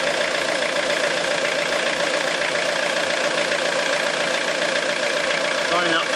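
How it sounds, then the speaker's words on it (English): A diesel engine in a Sierra fitted with an HHO bubbler runs at a steady idle, a dense continuous rumble and clatter close by, unchanging for the whole stretch, while someone talks over it. "As we can probably hear the engine running, I don't know if you can hear me above it."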